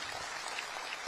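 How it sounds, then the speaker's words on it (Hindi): Audience applause at a Hindi kavi sammelan poetry gathering held in memory of Netaji, a dense, steady burst of clapping from a large crowd, close and sustained for the whole second. "अच्छी बात पर अच्छी तालियां बजनी चाहिए"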